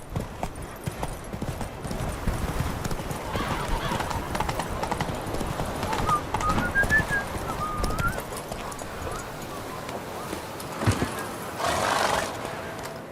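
Roach, the horse in The Witcher 3 video game, clops along in steady hoofbeats, then gives a clear whinny partway through, with a voice speaking over the scene.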